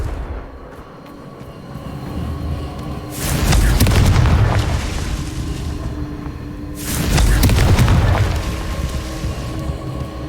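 Two heavy blasts from the Confringo fire spell in the Hogwarts Legacy video game, each a loud booming burst followed by a rumbling decay, spaced several seconds apart over a low steady background.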